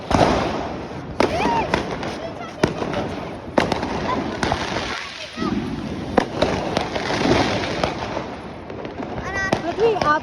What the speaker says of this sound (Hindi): और ये है स्काई शॉट।